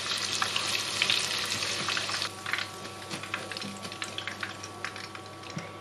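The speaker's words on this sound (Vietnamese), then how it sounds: "Để cho đậu hũ không hút dầu, anh chị em và các bạn nhớ chiên lửa lớn luôn nha." Tofu frying in hot oil over high heat gives a steady, close crackling sizzle with scattered sharp pops and spits throughout, with no voices.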